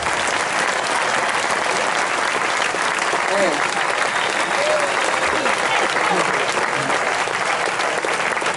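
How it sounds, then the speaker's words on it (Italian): An audience at a live comedy show in San Giovanni Suergiu applauds steadily, a dense, loud wash of clapping that lasts the whole time. "Voi ridete, applaudite"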